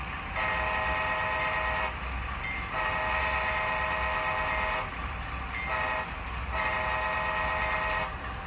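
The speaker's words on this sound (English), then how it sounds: "Whistle does sound just a little odd, a little bit rattly there maybe." A Scaletrains CSX AC4400 model diesel locomotive's horn sounds in three long, loud blasts with short gaps between them, slightly buzzy and rattly in tone, with no other sounds.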